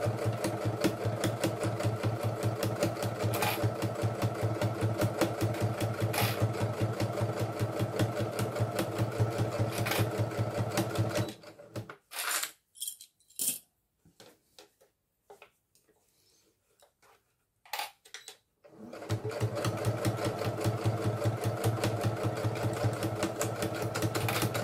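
A sewing machine stitching a zipper onto a belt bag runs in a steady, rapid mechanical whir, stops for several seconds of near silence broken by small handling clicks, then starts up again at full speed, close and loud.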